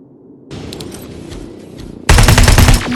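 Automatic gunfire in Terminator: Resistance as soldiers engage a T-850 machine downtown: quieter scattered shots and action first, then a sudden loud, close burst of rapid rattling fire that continues for under a second before easing back.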